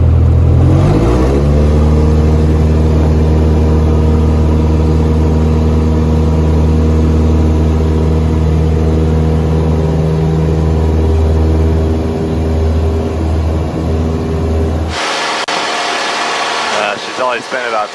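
Modified Carbon Cub light aircraft engine running up from a 1200 RPM stop to about 2,400 RPM for a short takeoff, a loud steady drone with strong harmonic tones that holds for about fifteen seconds, then drops away sharply into wind noise.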